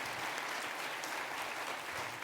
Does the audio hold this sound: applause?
yes